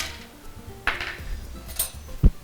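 Ice cubes clink and clatter into a glass of watermelon cooler made with watermelon pulp, with a few sharp knocks and one heavier thud near the end, close and fairly loud with no talking.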